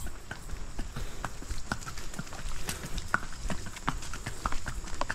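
Horse hooves clip-clop on a farm path in a steady rhythm, close and moderately loud, with faint rustling in the background.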